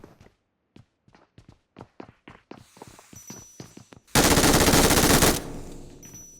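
Gunfire in the mobile game PUBG Mobile: a run of separate single shots at a steady clip, then a loud continuous burst of automatic fire lasting over a second, trailing into a softer tail.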